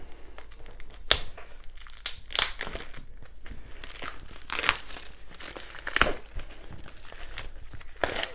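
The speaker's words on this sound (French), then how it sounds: "Hop, le film est enlevé." Plastic shrink film is pulled and torn away from a board game box, giving continuous close crinkling and crackling with sharper tearing bursts throughout.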